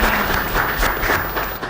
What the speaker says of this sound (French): On l'applaudit quand même